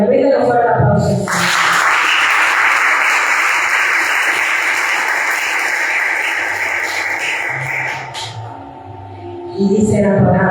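A church congregation bursts into strong applause during a sermon on the prodigal son, a dense wash of clapping that swells in after a voice, holds for several seconds, then fades as the preacher resumes speaking.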